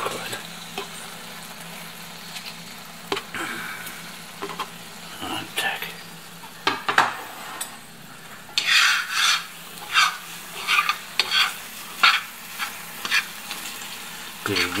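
Pasta being stirred in a pan with flour gravy, giving repeated scraping and sizzling strokes that grow louder and more rhythmic in the second half, close by with no talk.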